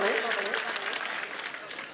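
Applause from an audience at an All India Mushaira poetry gathering fills the space as a dense, continuous patter of many clapping hands, loud and close, over about two seconds.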